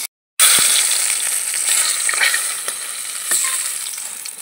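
Fish heads frying in oil for a Bengali muri ghanta, a steady close sizzle with a few stirring scrapes and taps, alone after a brief silent start.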